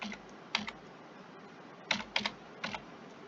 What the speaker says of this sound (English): now we're going to type in the supplier's invoice number